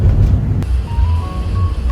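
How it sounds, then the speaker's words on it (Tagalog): Busy street traffic in Tondo, Manila: a steady low rumble of idling and crawling vehicles close by, with a faint tonal beep or horn drifting through, and no talk. "Grabe traffic."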